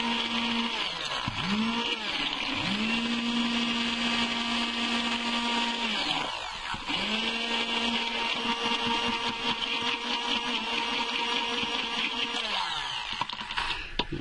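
An electric stick blender whirs steadily through soap batter with titanium colorant for mini café latte soaps, its motor pitch dipping and recovering a few times as it works, close and continuous with no talking.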